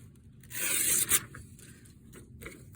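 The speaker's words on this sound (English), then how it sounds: "grab this piece of paper." A sheet of regular paper being grabbed and handled at a craft table, a short crisp rustle lasting under a second with a brief sharp crackle at its end, close and fairly quiet, followed by faint soft handling noises with no talking.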